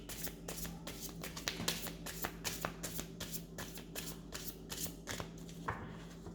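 A deck of cards is shuffled close by in a run of crisp riffles and taps that repeat at a steady pace, with no talk over them.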